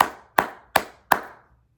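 Four slow, sharp hand claps, close and evenly spaced, each ringing briefly before the next, from someone at a tribute event for a former US Secretary of Defense; no talking.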